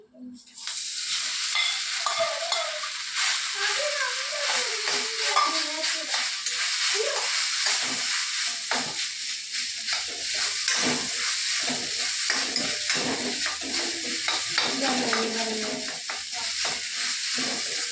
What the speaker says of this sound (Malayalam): നല്ലപോലെ എല്ലാം കൂടെ മിക്സ് ചെയ്ത് കൊടുക്കാം.